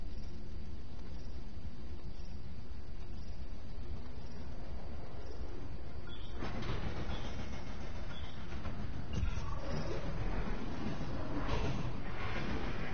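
A train passes in a shooter video game, a steady rumbling rail drone that swells noticeably about halfway through and stays loud and continuous, with no voices.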